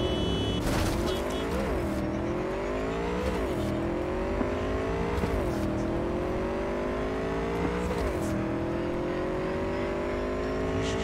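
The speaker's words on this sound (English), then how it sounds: "Get on the motorbike." A motorbike ride in Cyberpunk 2077 roars throughout, the engine revving steadily and climbing then dropping in pitch with each gear shift, with occasional tire screeches and skidding loud over the whole stretch.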